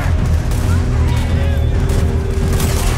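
A Red Dead Redemption 2 firefight plays out with deep booming gunshots under heavy low rumble. The shots blend into a dense, loud, continuous din with no clearly separated reports.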